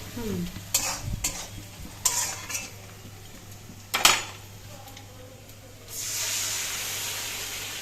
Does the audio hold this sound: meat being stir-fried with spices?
yes